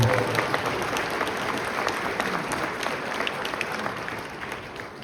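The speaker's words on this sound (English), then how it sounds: "let's give him one more round of applause" A crowd claps steadily at a high school alumni hall of fame awards ceremony, a dense wash of applause that slowly fades a little toward the end.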